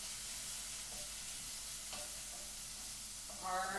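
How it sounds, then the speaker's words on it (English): Onions fry quietly in a soup pot as they are stirred with a wooden spoon, giving a faint, steady hiss with a slight lift in sizzle near the end. "I'm going to grab a wooden spoon to stir"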